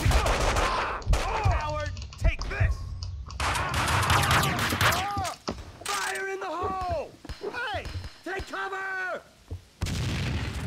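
Rapid gunfire and explosive bursts from the video game Max Payne 2, loud and dense, with repeated shots layered over booms and sweeping effects throughout.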